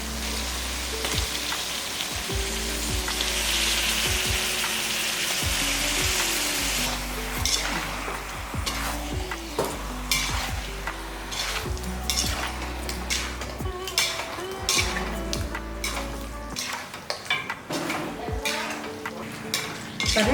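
Skinned broiler chicken sautéing in a pan, a steady sizzle broken by repeated scraping and clinking stir strokes, close and fairly loud, with no talk.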